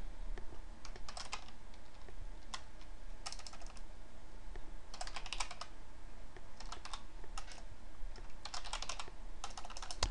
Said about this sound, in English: I know I'm typing in a lot of stuff